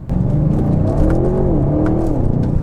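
A 2021 Audi RS7 engine pulls hard through manual-mode gear shifts, a loud close-up throaty roar whose pitch climbs, dips at a shift and climbs again, with faint clicks over it.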